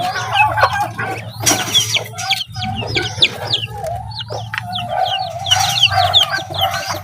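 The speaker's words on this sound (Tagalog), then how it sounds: "18 pieces na sisiyo ng manok at saka 4 na pabo dito." Chicken chicks and turkey poults chirping together in a brooder pen, a steady flurry of overlapping high peeps over low background hum.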